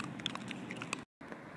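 A husky pitbull mix dog chews on a raw chicken bone up close, giving a run of wet crunching and crackling bites with one brief silent gap near the end.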